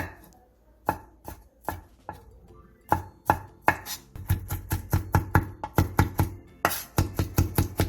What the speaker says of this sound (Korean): 새우 5개를 잘게 다져주세요.